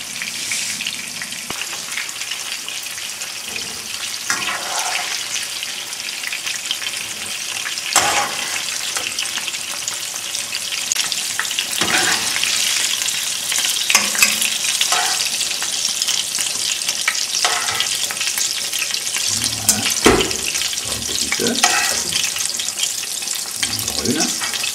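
Meatballs cooking in sauce in a pan on low heat, with a steady bubbling sizzle throughout, occasional stirring clatter and brief water sounds, fairly close.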